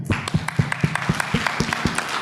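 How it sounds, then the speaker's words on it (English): Audience at a convention panel Q&A clapping in a short burst, a series of sharp, fairly regular claps up close, loud and brief. "Doesn't it feel good to get clapped for?"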